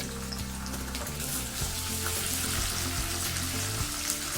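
Onions frying in oil with cumin seeds and bay leaf for an Assamese dish, giving a steady, loud, close sizzle that runs throughout with small crackles and stirring clatter, no voices.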